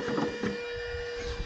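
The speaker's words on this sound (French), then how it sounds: "Mon ventilo il fait un de ces bruits." A scooter's aftermarket replacement cooling fan whirs noisily and continuously, with a steady tonal whine over a rough mechanical rattle, close to the microphone.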